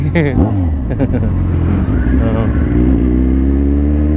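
A loud Kawasaki Z1000R motorcycle engine revs and roars up close near a cemetery, rising in pitch several times before settling into a steady, rumbling idle.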